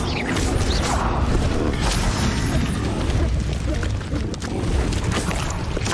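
Bombarda spell explosions in Hogwarts Legacy give heavy, rumbling booms and crashing debris, a continuous loud barrage of blasts and mechanical clatter with no break.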